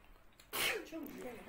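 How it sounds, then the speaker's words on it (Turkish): A single sharp sneeze bursts out after a brief quiet moment, followed by a trailing voice. "Apçu yaptı"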